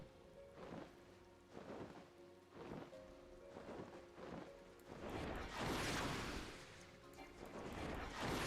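Steady rain with rumbling thunder in a video game storm, the downpour swelling into a loud wash midway with repeated rolling booms beneath it.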